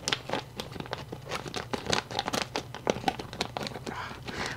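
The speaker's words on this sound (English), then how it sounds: "These scissors are awful. They barely cut anything anymore." Dull scissors cutting thick-cut bacon in a kitchen, heard as a series of close, crisp snipping and crinkling strokes at an uneven rhythm.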